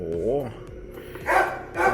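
A dog barks outside the house in two loud, close yaps near the end, with a voice heard speaking indoors just before.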